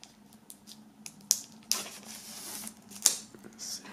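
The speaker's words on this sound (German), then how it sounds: "machen wir auch gleich nochmal das Buch aus der Folie" Plastic shrink wrap being torn and peeled off a book from a Vega Kaos box set, with sharp crinkling bursts and scattered crackles close up in a quiet room.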